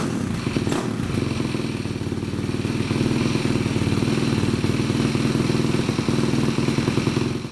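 A Honda CRF450 dirt bike engine, found abandoned in the woods and run with an uncleaned carburetor, idles close up with a loud, steady, rapid single-cylinder chug and mechanical clatter that stays even throughout.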